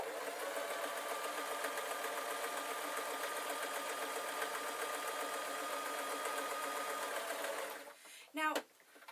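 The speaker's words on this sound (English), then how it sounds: "So I've got the machine on quite a small stitch, as small as your machine is happy with." A sewing machine stitches fabric on a very small stitch length, running as a steady, close, continuous whir for nearly eight seconds before stopping with a brief clunk.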